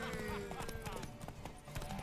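Horse hooves clip-clop in a quick, steady rhythm with a neigh in The Witcher 3: Wild Hunt, close and clear, while a voice talks over the sound.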